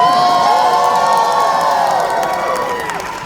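A loud crowd at a Matt Dinniman and Felicia Day event in LA screams, whoops and cheers nonstop, with children's shrill shouts mixed in, tapering slightly toward the end.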